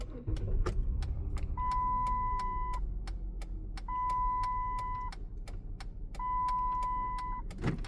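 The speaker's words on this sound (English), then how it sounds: "So let me turn on the car." A Chrysler Town and Country minivan is switched on, giving clicks and repeated electronic beeps in three even tone bursts over a low steady hum, close and moderately loud.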